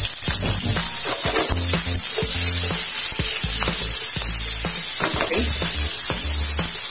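Onions sizzle and fry in a very hot pan, a steady loud crackle with stirring scrapes running throughout, and a voice briefly speaks over it.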